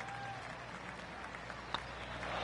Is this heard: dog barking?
no